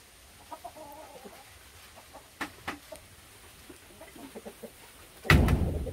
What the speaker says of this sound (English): We have 1 rooster and 2 hens.